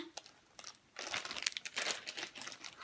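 Crinkly plastic packaging of a Barbie doll being unwrapped at home, crackling in a few quick bursts, then a denser run of crinkling and tearing up close, with no talk.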